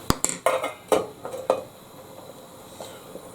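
A spoon stirs winter vegetable soup in a pot on a low simmer, with a few sharp knocks and scrapes against the pot at the start, then a quieter churning swish.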